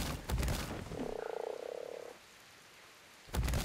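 A frog creature in the video game ARK Genesis gives a single loud, drawn-out croak lasting about a second, framed by brief bursts of game sound before and after.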